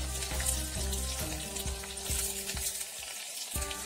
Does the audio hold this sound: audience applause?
no